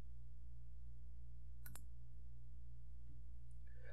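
A mouse button clicks on a toolbar button in the CANopen Magic software, a quick double click heard alone and faint over a quiet steady hum, with a fainter tick later.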